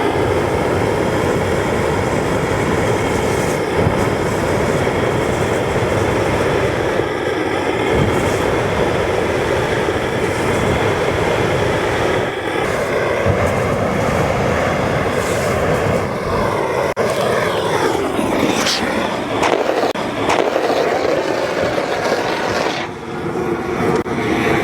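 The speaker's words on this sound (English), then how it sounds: "what we're gonna have Mike do here shortly is throw his flames at both of these boards" Flamethrower blasting flames at OSB and drywall boards, a loud continuous roaring rush that holds steady for the whole stretch with only slight swells, close and without voices.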